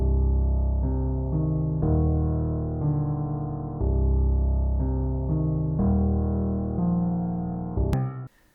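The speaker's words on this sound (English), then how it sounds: "I put a plugin called Halftime on it, and it sounds like this when activated" A Halftime plugin slows a synth intro for an industrial metalcore song, giving sluggish, heavier sustained chords with a deep low end that shift about every second, loud and steady before a sharp glitch and cut-off at the end.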